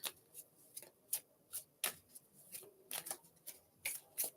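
Tarot cards being shuffled by hand during a live reading, giving a series of short, crisp riffling bursts about every half second, fairly close and moderately quiet with no talking.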